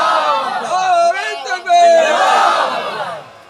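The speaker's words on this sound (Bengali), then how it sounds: "তাকবীর মারো।" A large crowd at an Islamic religious gathering (jalsa) shouts the takbir in unison, a loud, close, rolling chant that swells in two surges.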